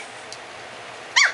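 A single short, sharp yip from a three-week-old puppy, close by, after a stretch of quiet room noise.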